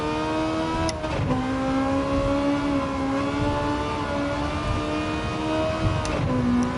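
A Honda Civic's engine held at high revs in the racing game Gran Turismo 7, a steady buzzing drone with slight pitch wavers and brief blips, close and uninterrupted.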